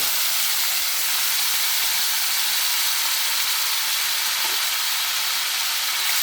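Star gooseberries sizzle steadily in hot oil, a close, continuous frying hiss that holds even and unbroken throughout with no voices.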